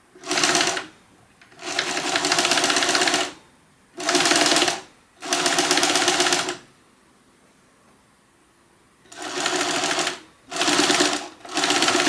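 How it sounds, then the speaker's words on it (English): A sewing machine topstitches along a fabric seam of a pet stocking, running in five or six close bursts of a second or two each, separated by brief pauses and a longer quiet gap midway. "we're gonna top stitch along this seam on this bottom piece"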